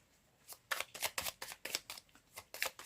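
A small deck of forest-themed oracle cards is shuffled by hand, a quick run of crisp riffling bursts in an uneven rhythm, close and fairly quiet with no talking.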